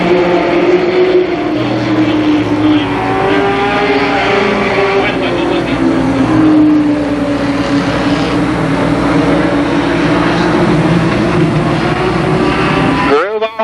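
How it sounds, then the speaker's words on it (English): Limited Sportsman race cars roar around the oval at Columbus Motor Speedway in a continuous loud engine drone with shifting pitch, while an announcer talks over the racing. "Racing laps for the Limited Sportsman cars."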